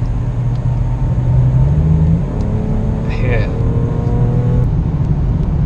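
Audi RS4 accelerating hard on a derestricted German Autobahn, its engine note rising steadily then shifting through a gear change, heard from inside the car with a brief spoken word.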